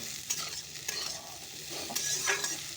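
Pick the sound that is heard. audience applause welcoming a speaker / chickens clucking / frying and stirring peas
frying and stirring peas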